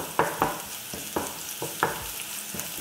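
Finely chopped garlic clove frying in a pan for Turkish menemen, a steady close sizzle broken by a regular series of scraping stirs, about two strokes a second.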